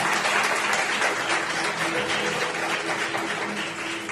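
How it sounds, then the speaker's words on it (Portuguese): A church congregation applauds during a Portuguese-language sermon, a continuous, even roar of clapping from a large crowd that holds steady and eases slightly toward the end. "Você pode aplaudir o Senhor."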